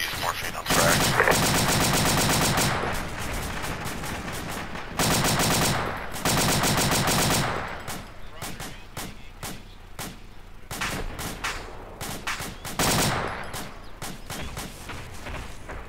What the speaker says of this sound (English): I'm just shooting it where tracers are coming from.